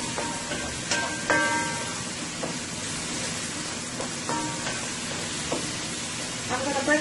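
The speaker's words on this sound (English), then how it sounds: "you want to fry your tomato paste a little into the oil" Tomato paste frying in hot oil in a pot for a Caribbean stew, a steady close hiss and sizzle throughout, with occasional utensil clinks against the pot.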